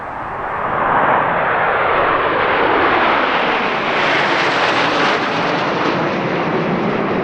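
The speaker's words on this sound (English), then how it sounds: "as the Snowbirds run in for their final break" Snowbirds jet aircraft roar past at the Quinte International Airshow, a loud broad rushing jet noise that swells and sustains overhead with no voices.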